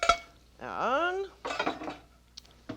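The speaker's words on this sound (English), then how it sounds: "going to squish the sauce a little bit around over the vegetables" A metal spoon working sauce over vegetables in a cooking pan: a few scraping clinks and knocks of utensil against the pan, with a brief voice sounding in between.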